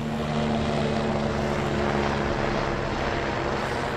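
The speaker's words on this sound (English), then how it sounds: "Helicopters again. There's something about helicopters, I don't know what it is." A helicopter flies overhead, its engine and rotor making a loud, steady droning roar throughout with no voices.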